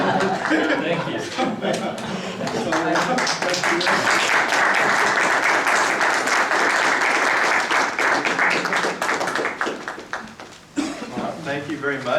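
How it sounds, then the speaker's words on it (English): Audience applause at a transit coalition meeting, a dense, sustained round of clapping lasting about ten seconds, with chatter and laughter mixed in and a voice speaking as it fades. "Let's give them a huge round of applause."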